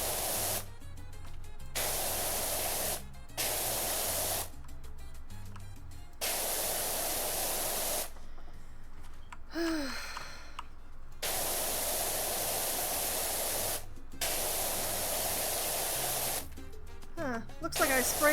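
Pressure washer spraying in the video game PowerWash Simulator 2 gives loud, steady hissing bursts that start and stop repeatedly, with short quiet gaps between sprays.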